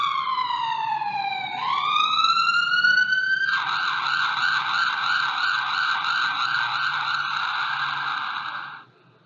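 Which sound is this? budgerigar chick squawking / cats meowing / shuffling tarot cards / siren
siren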